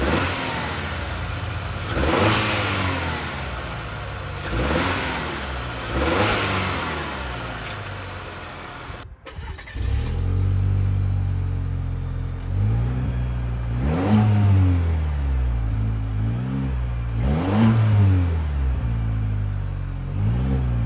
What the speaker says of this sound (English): Let's go ahead and start up this Turbo Max motor and see how she sounds.